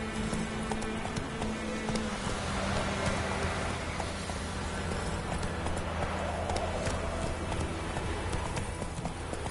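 Roach the horse galloping in The Witcher 3: Wild Hunt, a steady run of hoofbeats under a dense, constant bed of game ambience that sounds like rain.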